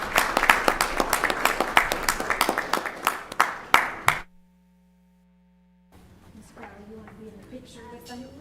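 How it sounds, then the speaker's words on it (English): A room full of people at a school board meeting claps steadily for about four seconds, then the applause stops abruptly and near-silence follows before faint background sound returns. "Let's give him one more round of applause."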